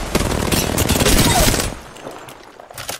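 Enemy gunfire in Apex Legends, a dense rapid burst of shots for over a second and a half, loud and close, then fading to quieter scattered noise with a final short shot.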